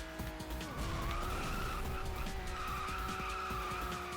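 Car in the racing game Hot Wheels World Race sliding sideways while counter-steering, a loud continuous tire screech over a droning engine, held steadily for several seconds.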